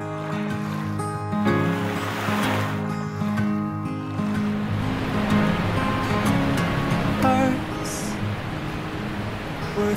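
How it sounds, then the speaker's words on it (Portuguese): Water pours steadily from a waterfall into the sea on Cocos Island, a continuous broadband rush of water and surf, loud and close, with music and occasional voices faintly underneath. "uma cachoeira que deságua no mar"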